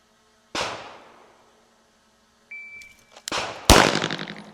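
Pistol shots during a draw and reload drill ring out loud and close: one sharp crack, a pause with a brief electronic timer beep, then two more cracks in quick succession, each with a ringing decay.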